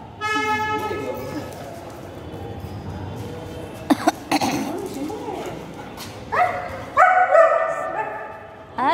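Several dogs bark in short, sharp bursts with some yips and whimpers, loud and close, while people talk nearby.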